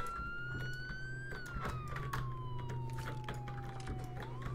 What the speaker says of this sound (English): I already hear people lighting up their lights and sirens